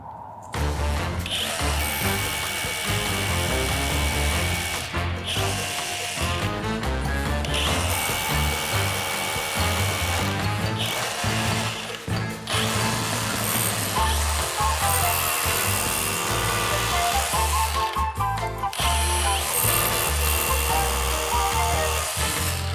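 Power drill boring holes in a wall for dowels, loud whining bursts of drilling separated by brief pauses and clattering, close and dominant throughout.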